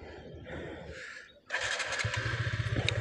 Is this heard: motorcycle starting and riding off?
yes